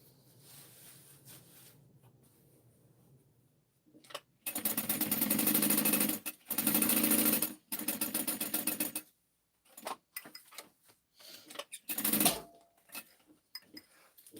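Sewing machine stitching, loud sustained bursts of fast mechanical whirring separated by pauses, then shorter stop-start runs, with quiet handling sounds between.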